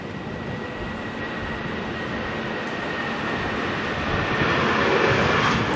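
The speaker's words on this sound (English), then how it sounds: "what have we got departing here? Air New Zealand to Christchurch" Air New Zealand Airbus A320 departing Auckland Airport, heard as a loud, steady broadband jet roar that swells slightly toward the end with a faint tonal whine, and no voices.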